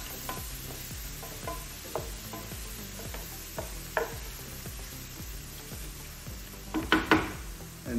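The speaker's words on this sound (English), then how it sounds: "we're gonna go right in and saute our onions. Stir those around a bit." Onions sauté in a pan while a utensil stirs them. Steady regular scraping strokes sound over a soft sizzle, with a few louder clanks near the end and no voices.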